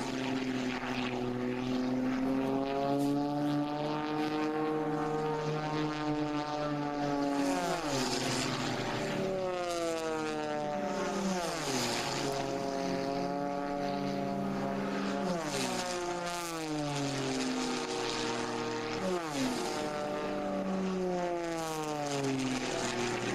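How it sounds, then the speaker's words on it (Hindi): Propeller airplanes at an air race in Austria roar past in repeated passes, their engine tones sweeping sharply down in pitch as each flies by, loud and continuous. "आप समझ गए होंगे हम बात कर रहे हैं हवाई जहाज़ों की रेस की"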